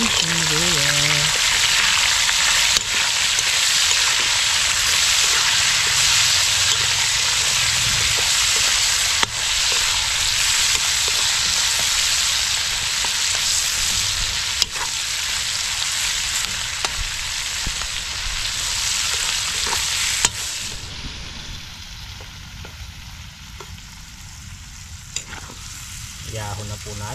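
Onions sizzle steadily in a hot pan on a farm, with a constant loud frying hiss and intermittent scraping strokes of a spatula stirring, the sizzle easing slightly near the end.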